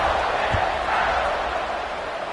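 A stadium crowd roars steadily in a college football video game between Ole Miss and Florida, a broad, dense wash of cheering that holds constant and loud throughout, with no distinct individual voices standing out.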